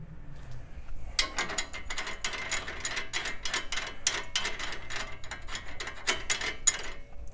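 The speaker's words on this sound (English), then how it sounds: "Now we're going to put this nut on." A ratchet tightens the strut mount nut on a 2011-2019 Ford Explorer in a rapid run of sharp, close clicks, with short pauses between strokes and no talk.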